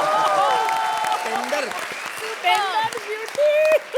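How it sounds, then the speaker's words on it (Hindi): A studio audience at a comedy show applauds in a broad, close clatter while voices talk over it. "भाई जरा तालियां और जोर से हो जाए"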